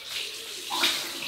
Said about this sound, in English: Cold water rinse, keep the face wet.